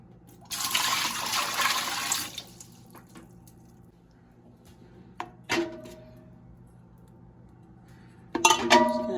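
Water pours briefly into a metal pressure canner, followed by quiet clinks and knocks, then another short burst of pouring and clatter.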